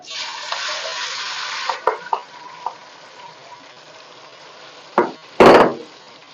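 Onion and tomato paste hits a pan of crushed cumin and hot oil for Lahori bong paya, giving a loud steady sizzle with a few sharp spoon clicks and two heavy scraping stirs near the end.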